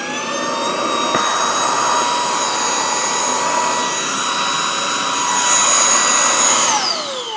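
A Shark hand-held vacuum cleaner runs loud and close with a steady high-pitched motor whine and airflow roar, then the pitch shifts and winds down near the end.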